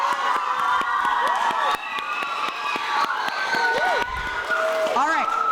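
Children at a vacation Bible school cheer and shout when an applause sign is raised, a lively crowd of high excited voices with whoops and calls over constant noise.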